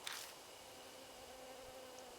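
A swarm of bees buzzes in the Death Mark video game, a steady, dense drone that holds evenly throughout, with a brief louder burst at the start.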